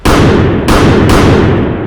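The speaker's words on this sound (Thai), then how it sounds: "เสียงระเบิดกึกก้องติดกันนับสิบครั้ง" Three loud, booming explosions go off in quick succession nearby, each leaving a rumbling tail.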